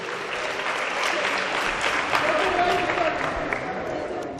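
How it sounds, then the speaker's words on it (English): A crowd at a boxing tournament applauds both fighters after a bout goes the full distance. The clapping is sustained and full, with crowd noise around it and a faint tone partway through. "Let's give these warriors a big round of applause."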